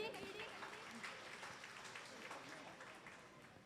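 Audience clapping at a Vishu cultural programme, a dense, fairly faint ripple of many hands that tapers off gradually, with a voice briefly heard through it.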